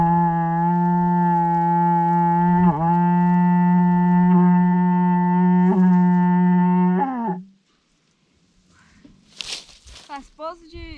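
A cow lets out a long, sustained low moo, loud and close, which then cuts off, followed by quieter scattered noises and brief higher calls.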